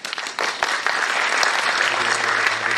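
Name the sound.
audience applause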